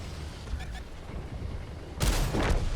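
A tank cannon fires once in World of Tanks with premium rounds loaded, a sudden loud boom with a rumbling tail after a quieter stretch of game noise.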